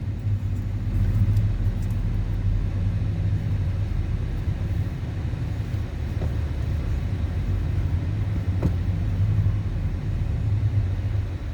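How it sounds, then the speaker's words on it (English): Steady rush hour road traffic rumbles on without a break, a dense low drone of passing cars with a few faint sharper swells rising above it. "Rush hour traffic."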